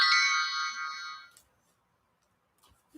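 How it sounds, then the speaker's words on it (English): A phone ringtone or message alert chimes loudly as a bright, steady melodic tone for just over a second, then cuts off, leaving near silence with a couple of faint clicks. "Oh, my phone's going off."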